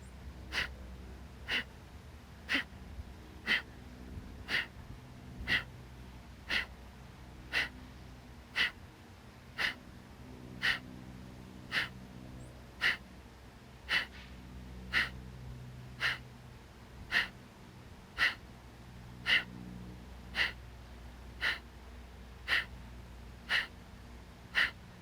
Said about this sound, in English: Inhale through your nose. Big exhale.